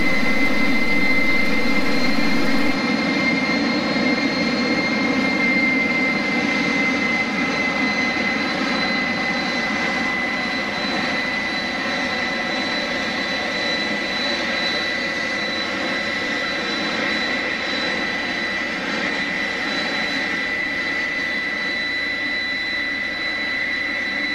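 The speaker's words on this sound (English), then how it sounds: "we now can start the right engine" A Fouga 170 jet's right engine starting, roaring steadily with a high whine and broad rumble, holding near-constant loudness throughout, up close.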